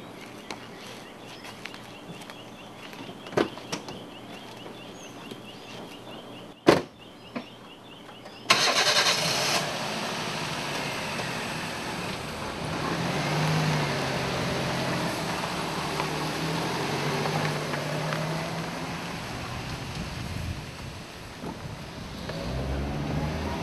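A rental car's engine starts with a sharp burst after a stretch of quiet, then settles into a steady, fairly loud drone of driving and road noise that continues to the end.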